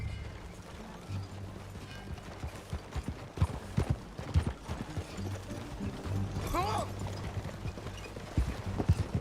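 Horse hooves clip-clop at a steady riding gait in Red Dead Redemption 2, mixed with creaking tack and mechanical rattles over a low engine-like hum, with a brief rising whine near the middle.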